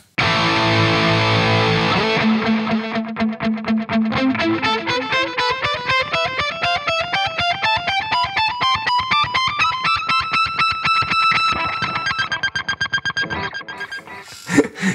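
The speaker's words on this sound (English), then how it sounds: "we will start with the dotted 8th delay" Electric guitar through a Kemper profiler with a dotted-eighth delay and zero feedback plays a long rising run of bright, distorted notes. Each note gets a quick echo, giving a steady pulsing pattern for about fourteen seconds with no talk.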